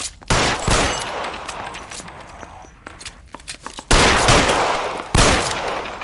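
Loud bursts of gunfire in a shootout in the game L.A. Noire, several sharp volleys with quieter stretches and scuffling between them, no talk.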